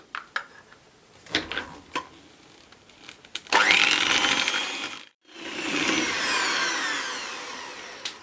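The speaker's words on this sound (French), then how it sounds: "Je vais fouetter le mélange et je rajouterai du mascarpone si besoin." A sugar mixture for chocolate tiramisu is whisked with an electric whisk, starting with short, scattered knocks and clatter, then a loud, steady whir, a brief cutoff, and a second sustained run.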